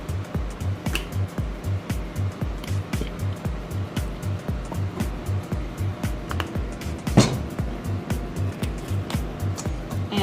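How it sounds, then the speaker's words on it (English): Eggs whisked with ketchup and barbecue sauce for meatloaf, a fast rhythmic wet tapping of the whisk against the bowl that runs steadily and close throughout, with one louder knock partway through. "And whisk that together."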